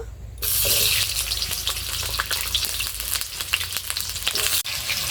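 Potatoes frying in mustard oil in a kadai for a Bengali tilapia curry with spring onions, giving a loud, steady sizzle that starts abruptly and carries on unbroken with faint stirring and scraping, no voices.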